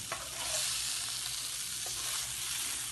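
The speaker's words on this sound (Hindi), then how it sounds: "तो आपको इसकी सीजलिंग की आवाज़ आ रही होगी यकीनन।" Gola kebabs sizzle while frying in oil in a wok, a continuous, fairly quiet hiss with faint crackles, heard alone without talk.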